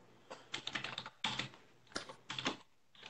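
Rapid bursts of computer keyboard typing, close and fairly loud, coming in several clusters of quick keystrokes with short pauses between, no talking.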